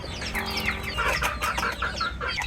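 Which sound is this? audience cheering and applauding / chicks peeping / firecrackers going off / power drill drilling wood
chicks peeping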